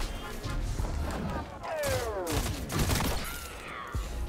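Hand cannon gunfire and explosive battle noise in a Destiny 2 Iron Banner 6v6 match, with repeated sharp shots and thuds over a busy, loud mix of game effects and music-like tones.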